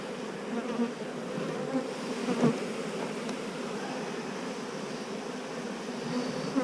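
Honey bees buzz in a dense, steady drone at an open hive, a continuous swarm of wingbeats that stays close and fairly even, with no voices over it.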